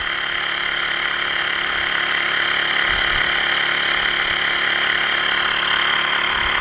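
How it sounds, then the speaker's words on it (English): A Xiaomi Mi portable electric air pump runs continuously while inflating a tyre, giving a steady, loud, high-pitched motor whine and buzz close by. "So we're just going to pump this up."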